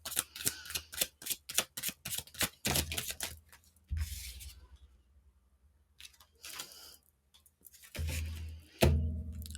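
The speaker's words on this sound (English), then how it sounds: "I'm just going to do a shuffle, no question" Tarot cards being shuffled make quick bursts of crisp riffling and snapping, fairly faint and close, coming in irregular clusters with short pauses and a few soft thumps as the deck is handled.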